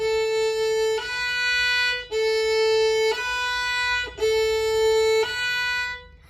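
A violin plays sustained, smoothly connected slurred notes in a slow sequence, with brief changes of bow every second or so and no talking.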